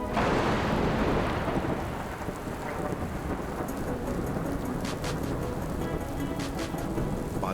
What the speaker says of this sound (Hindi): बारिश होने लगी है।